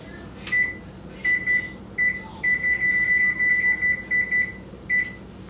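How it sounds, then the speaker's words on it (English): An oven being switched on to preheat gives out a run of short, high electronic beeps, first singly and then in a quick rhythmic series. The beeps are clear and close over a low background hum. "Actually, let me turn my oven on."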